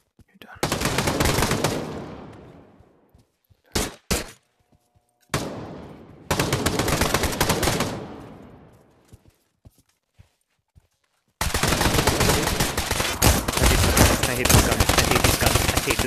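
Loud automatic gunfire from the VR shooter game Pavlov Shack comes in long sustained bursts. Short gaps and a couple of brief single shots fall between the bursts.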